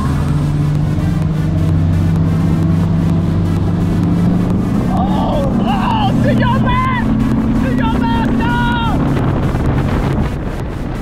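Bass boat racing across Lake Chickamauga: a steady, loud outboard engine drone with heavy wind buffeting and water rush, while people talk over it.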